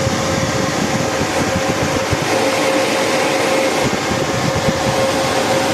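A server power supply fan runs continuously close by, a steady, loud whirring, broad mechanical rush with a faint constant hum and no pauses.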